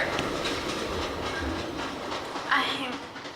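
Stage sound effect of a train running on a railway during a school arts production of Through the Looking Glass, a steady rolling rumble with rhythmic clatter and a brief hiss, played under continuous noise.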